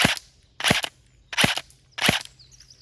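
A CM030 airsoft electric pistol fires BBs on full auto, four short sharp bursts with brief gaps between them, each one a crisp rapid crackle, close and loud with no talking.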